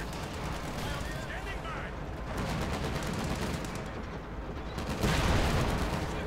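Dense gunfire and explosions from a Company of Heroes 2 battle, with a Panther tank among the units firing, fill the clip with continuous crackling bursts and booms, a louder blast near the end, under a commentator's voice.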